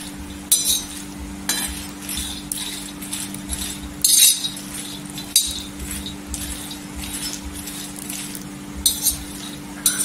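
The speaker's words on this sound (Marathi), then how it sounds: "स्लो गॅसवर छान असं भाजून घ्यायचं शेंगदाणा।" Peanuts dry-roasting in a pan over low gas for jaggery peanut laddu, stirred with intermittent clinking and scraping against the pan over a faint steady hum, close by with no talking.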